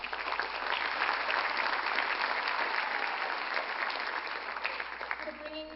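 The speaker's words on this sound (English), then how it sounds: "if you can give him a round of applause, the Indian High Commissioner to Trinidad and Tobago" Audience at a UTT Indian Arrival Day event in Trinidad and Tobago applauds the Indian High Commissioner, a steady, even wash of many hands clapping that holds for several seconds before thinning as a voice starts.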